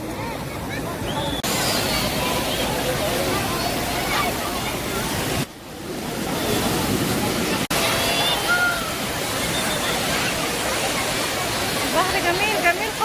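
Steady loud sea surf rolls onto Alexandria's Mediterranean beach in a continuous washing roar, with crowd babble blending into the background.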